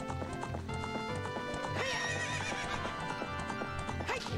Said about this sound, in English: Here comes my fucking horse.